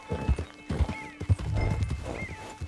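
Horse hooves clip-clop in short uneven bursts alongside a whinny in a Red Dead Redemption 2 camp scene, close and clear over a faint steady hum.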